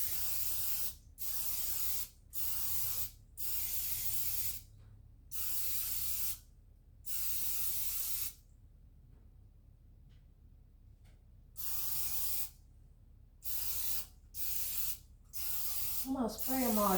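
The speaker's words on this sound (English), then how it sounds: "Now I'm going to just spray with some Pam, or this one is just olive oil spray." Olive oil cooking spray from a can, misting into breakfast cups in a home kitchen: about a dozen short hissing bursts, each roughly half a second to a second long, with a longer pause midway, close and fairly loud.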